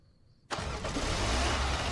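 A bus engine in the Roblox video game turns over abruptly after near silence, then settles into a loud, steady, rumbling idle that continues to the end.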